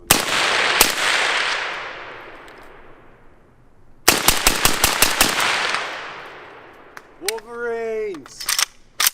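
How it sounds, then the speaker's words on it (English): Suppressed gunfire from a PSAK 104 rifle, an under-gassed AK-pattern gun: a loud report with a long decaying tail, followed by a rapid string of sharp shots, then a voice. "The PSAK 104 shoots pretty damn good suppressed because it is very under-gassed from the factory."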